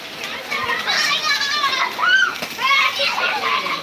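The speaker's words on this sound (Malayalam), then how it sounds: "ഇവിടെ പിള്ളേരല്ല മഴയത്ത് കിടന്ന് അതിഭയങ്കരമായ കുളി കണ്ട കാഴ്ച" Children play and bathe in heavy rain, their high excited shouts and squeals close by over a steady wash of rainfall, with some splashing.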